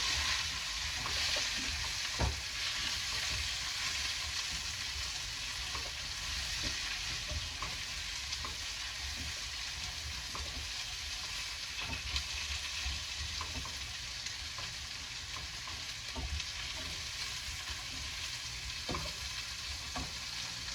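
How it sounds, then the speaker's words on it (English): Mushrooms and cherry tomatoes fry in a pan with a steady, even sizzle that holds for the whole stretch, broken by occasional soft taps and stirring sounds. No voices are heard. "we're ready to throw the mushrooms and the cherry tomatoes in there. Get those browned a little bit."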